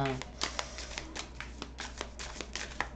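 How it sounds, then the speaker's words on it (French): Cards are drawn and shuffled for an oracle reading, giving a quick run of crisp papery flicks and slaps at a steady rhythm, close and fairly quiet, with no one speaking. "procédons au tirage. Donc dans un premier temps, je vais tirer 2 cartes"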